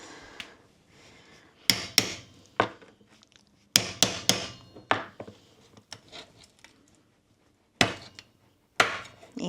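A knife chops through fish on a cutting board in sharp, irregular strikes, some in quick pairs and others spaced apart, close and fairly loud against a quiet room.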